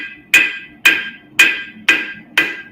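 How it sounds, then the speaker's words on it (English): A hammer pounds hot Damascus steel on an anvil, five sharp, ringing blows landing at a steady, unhurried rhythm, each clang close and loud with a short metallic decay. "I'm actually hitting the exact same spot on the anvil too"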